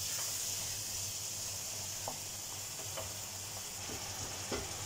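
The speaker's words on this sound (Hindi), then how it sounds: "तो फ्रेंड ये देखिए हमारा मसाला भून रहा है, अभी ये भूना नहीं है" Spice masala fries in oil over a low-to-medium flame, a gentle continuous sizzle with occasional soft spatula scrapes and taps.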